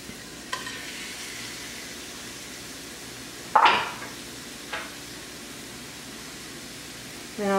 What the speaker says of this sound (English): So in the frying pan they go.